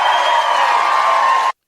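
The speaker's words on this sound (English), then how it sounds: "And the crowd goes wild." A crowd cheering and whooping at a conservative political rally, a steady dense roar of voices that holds for about a second and a half, then cuts off abruptly.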